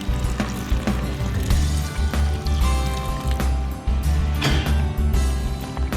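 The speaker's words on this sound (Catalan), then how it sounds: "I ara ens posem a remenar una altra vegada, una mica així." Asparagus risotto is stirred in a pan, with a spoon scraping and squelching through the thick rice in a repeated, close rhythm over a soft simmering sizzle.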